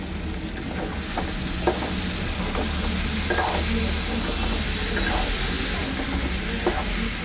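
Chopped tomato fries in a pan while being stirred, making a steady close sizzle broken by repeated soft scraping strokes at an even pace.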